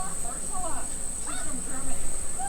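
Bees swarm and buzz around a hive being cut out of a tight space, with a dense, continuous drone and high whine close to the listener throughout.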